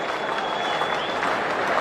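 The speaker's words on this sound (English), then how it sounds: "Listen to the Adelaide Oval crowd." A cricket crowd at the Adelaide Oval during a Test match applauds and cheers in a steady, dense roar of clapping that holds evenly throughout, with no speech.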